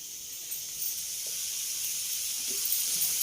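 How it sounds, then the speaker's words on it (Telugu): Cucumber pieces lightly frying in a pan give a steady, soft, even hiss that continues throughout with no talk. "మళ్ళీ ఈ దోసకాయ ముక్కలు లైట్గా వేయించుకుందాం అండి"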